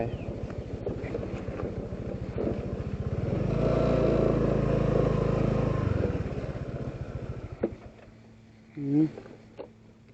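An old motorcycle laboring up a steep hill on Koh Larn, its engine thumping steadily, then rising to a heavy strained drone and settling again, with wind buffeting the microphone and a voice briefly heard near the end.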